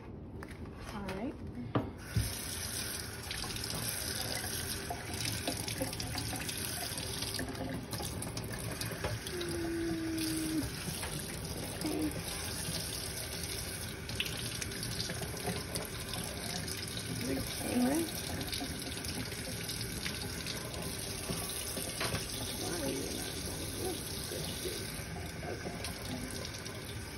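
Tap water runs steadily into an enema bag, a constant rushing flow with faint handling rubs and clicks throughout.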